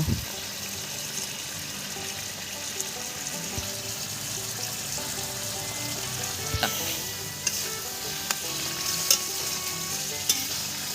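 Fried potatoes are tipped back into a pan for chicken biryani and fry with a steady, broad sizzle, stirred with scattered sharp scrapes and clinks of the utensil against the pan, close and continuous with no talking.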